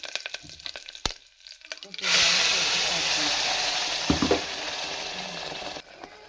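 After some faint clattering, a loud hiss of spices and curry leaves sizzling in hot oil bursts in and keeps crackling steadily, a few louder pops midway before it cuts off.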